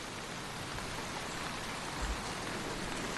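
Steady summer rain falling in Devon, a dense continuous hiss of drops with no pauses, close and even throughout, no voices.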